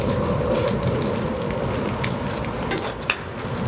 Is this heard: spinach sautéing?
yes